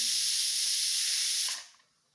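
Steam hisses steadily from a pressure cooker on a gas stove while potatoes cook for french fries. The loud, even hiss lasts about a second and a half, then quickly fades away.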